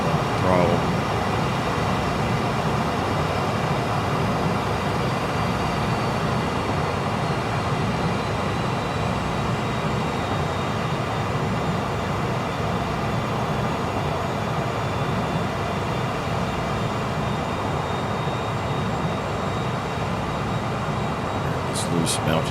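Steady broadband jet roar of a T-38A engine winding down after a throttle cut in a flight simulator cockpit, continuous and loud for the whole stretch with no abrupt changes.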